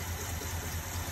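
A 1969 Ford F250 engine idles with a worn, tired carburetor, giving a steady low rumbling drone with a faint wash of hiss, heard alone and close.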